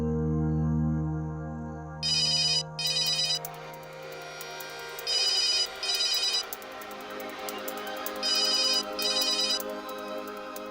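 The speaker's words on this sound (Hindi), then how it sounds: "इस वक्त किसका फोन है?" A telephone rings indoors in a home at night with a modern electronic ringtone, three paired bursts of ringing separated by pauses, over a low sustained musical drone.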